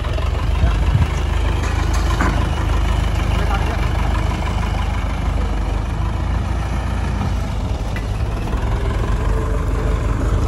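An old modified high-speed jugaad tractor engine runs in a constant loud, low diesel rumble with steady chugging throughout, close by, while people talk over it.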